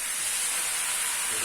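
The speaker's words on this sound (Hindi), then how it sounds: "मिक्स भी करते जा रहे हैं और भूनते भी जा रहे हैं।" Cauliflower and bone-in mutton fry in a pan, giving a steady, loud sizzling hiss that runs unbroken from start to finish with no voice over it.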